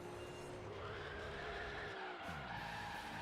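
Car tyres skidding in Gran Turismo 3 A-Spec during a Clio Cup race, worn tyres squealing in a long sliding tone over a steady engine drone, sustained and continuous with a pitch dip near the end.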